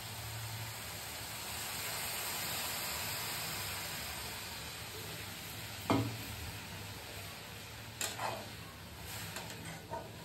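Milk is poured into a pan of fried grated carrots, and the steady sizzling and hissing from the pan breaks into a short splash and bubbling as the liquid hits, followed by more brief sputters.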